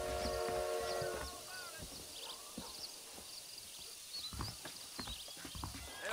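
A horse in the Western video game Red Dead Redemption whinnies with a bright neigh, then its hooves clip-clop in an uneven trot amid soft ambient game sound.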